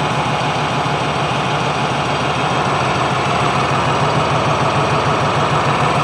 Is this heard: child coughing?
no